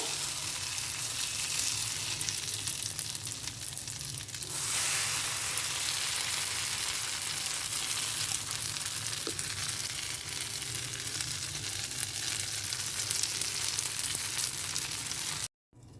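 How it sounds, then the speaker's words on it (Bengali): Potato breakfast snacks fry in a little oil in a pan over low flame, giving a steady close sizzle that runs almost unbroken, with a slight drop partway through before a sudden cutoff at the end. "আমি সামান্য একটু তেল দিয়ে নিয়েছি একইভাবে আমি বাকিটাও ভেজে নেব"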